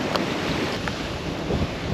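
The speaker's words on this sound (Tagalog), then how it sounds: "ang lakas ng alon kasi open na yan eh" Steady roar of surf and wind on an open coast at Aparri, Cagayan, Philippines: a continuous wash of strong breaking waves with blustery gusts buffeting the microphone.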